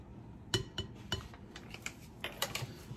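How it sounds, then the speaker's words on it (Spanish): A spoon stirring a Doritos chicken dip mixture seasoned with taco seasoning, giving a string of sharp, faint clinks against the bowl at an uneven pace over quiet room tone, with no talking. "Y seguimos revolviendo un poquito más hasta que esté todo bien incorporado."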